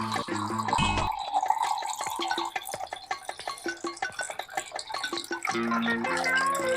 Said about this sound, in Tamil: தண்ணியை வடிகட்டிட்டு